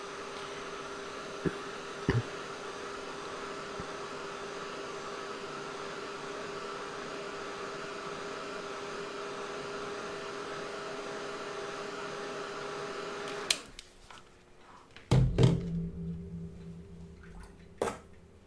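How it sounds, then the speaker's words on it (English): A hair dryer blows over wet watercolor paint, a steady close whirring hiss that runs for about thirteen seconds, then cuts off, followed by a few knocks and handling clunks. "I'm going to speed it up and use my dryer."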